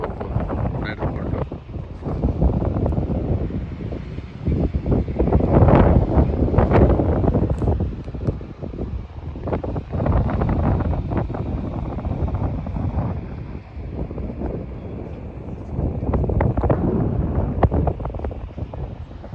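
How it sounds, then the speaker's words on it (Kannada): Strong wind blasts across the microphone outdoors in Luxembourg, a loud, gusting roar that swells and eases over about twenty seconds with no other clear sounds. "ತುಂಬ ಗಾಳಿ ಇದೆ"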